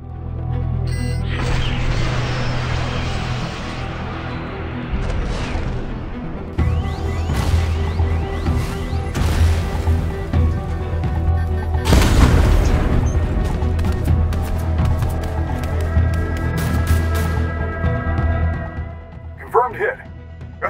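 A Fortnite weapon fires and strikes its target, with heavy booms and crashing impacts rolling over a dense, loud battle soundscape for about twenty seconds, while voices are heard throughout.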